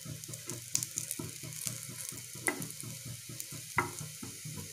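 Raw banana slices fry and crackle in a hot pan as they are flipped, a steady close sizzle broken by soft scraping turns and a few sharper clinks of the spatula against the pan.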